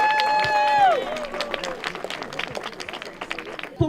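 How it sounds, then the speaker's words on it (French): Applause from a crowd gathered outdoors at the Chandler Alzheimer walk, a steady patter of many hands clapping over about four seconds with some voices mixed in. "On mérite tout le monde une grosse main d'applaudissements pour votre présence."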